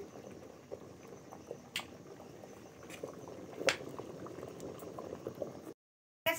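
Rice boiling in a pot on the stove, a steady close bubbling and light liquid patter running throughout, with a few louder pops before a brief silent gap near the end.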